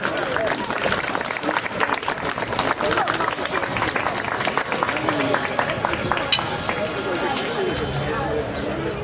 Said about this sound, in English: One more round of applause for Richard and April.